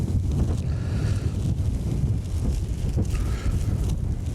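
Steady wind blows outdoors across open farm country, a constant loud rumbling buffet against the microphone with no pauses.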